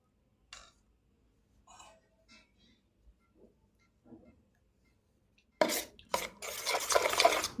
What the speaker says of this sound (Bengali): ভালো করে মিক্সড করে নেব।